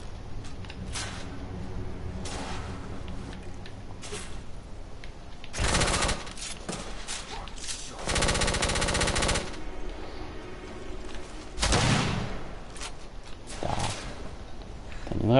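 Bursts of gunfire in The Order 1886, loud rapid automatic volleys that break out several times between quieter stretches of game ambience, each burst lasting about a second or more.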